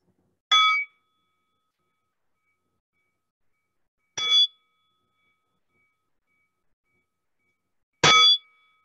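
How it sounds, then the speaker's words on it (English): A meditation bell is struck three times at a midweek meditation session, each a bright metallic ding that rings briefly and decays, spaced about four seconds apart in near silence. "And receiving the sound of the bell."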